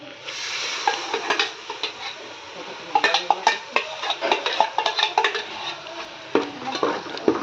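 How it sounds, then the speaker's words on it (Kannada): Onion paste and tomato frying in hot oil for a cashew paneer dish, stirred with a utensil that scrapes and clinks against the pan in quick uneven bursts over a steady close sizzle. "ಇದು ಎಣ್ಣೆಗೆ ಸ್ವಲ್ಪ ಫ್ರೈ ಆಗಬೇಕ್ರಿ ಉಳ್ಳಾಗಡ್ಡಿ ಟೊಮೆಟೊ"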